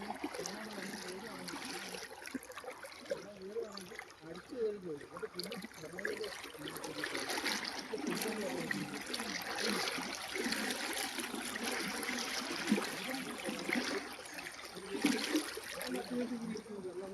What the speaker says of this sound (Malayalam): ഇവിടെ നിന്ന് നല്ല ഒഴുക്കാണ് കേട്ടോ. വെള്ളവും കൂടിയിട്ടുണ്ട് നല്ലതായിട്ട്.